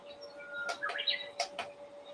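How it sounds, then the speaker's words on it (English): Small birds give a few quick, high chirps and tweets in a short, faint cluster against a quiet background. "That's the birds again."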